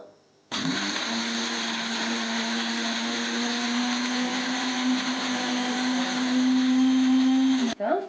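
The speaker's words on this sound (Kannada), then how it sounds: "ಇವೆಲ್ಲನ ಸ್ವಲ್ಪ ರುಬ್ಕೊಂಡ್ಬರೋಣ" A mixer grinder runs on grated coconut, cardamom and gram, a loud steady whirring drone that starts abruptly, holds for about seven seconds and then cuts off sharply.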